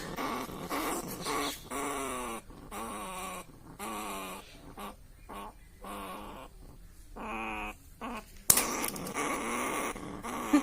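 A bandicoot rat gives a series of short, harsh growls and snarls in separate bursts, close by, with a sharp knock near the end.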